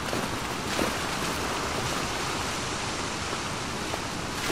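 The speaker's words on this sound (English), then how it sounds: "We gotta check out the waterfall." Waterfall in The Last of Us Part II, a steady broadband rush of falling water heard alone with no talk, constant and fairly soft throughout.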